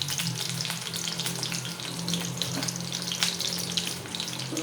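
Meat frying for caldereta gives a steady, loud sizzle with crackling bursts throughout, close up and with no talk over it.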